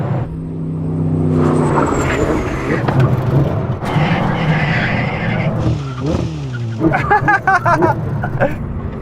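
A Ferrari or Koenigsegg brakes hard from high speed in a stopping-distance test. A loud, steady engine and tyre roar gives way to repeated chirping and squealing from the pinching tyres as the ABS pulses.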